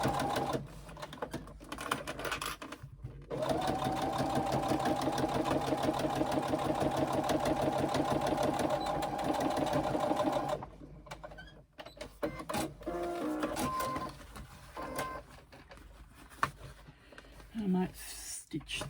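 A sewing machine makes a steady, close run of stitching as backpack pieces are sewn along a bottom seam, followed by fabric handling and clicking while someone talks.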